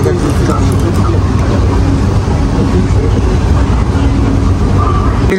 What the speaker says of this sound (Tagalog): Underground naman yung MRT nila.